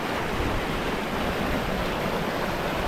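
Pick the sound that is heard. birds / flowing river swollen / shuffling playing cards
flowing river swollen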